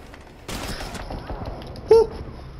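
Video game gunfire erupts in a short burst of rapid shots, close and sharp, followed by a brief high electronic tone amid other game sounds.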